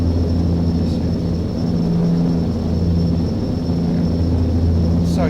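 A jet engine in a flight simulator game drones steadily, a constant loud hum with a faint high whine that holds unchanged throughout.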